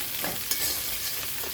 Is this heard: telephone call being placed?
no